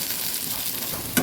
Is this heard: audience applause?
no